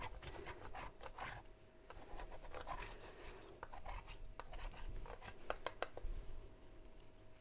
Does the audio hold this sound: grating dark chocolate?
yes